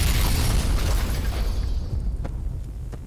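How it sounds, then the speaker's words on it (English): A bomb hidden in a bacon roll goes off in a comedy sketch, a loud booming blast that rumbles and then decays over a few seconds, with no talk over it. "A bacon roll that's also a bomb."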